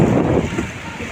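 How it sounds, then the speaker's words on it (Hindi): Ocean waves wash in at Puri beach with a loud, close rush of surf and wind buffeting the microphone over a short stretch. "देखिए दूसरी लहर आ रही है।"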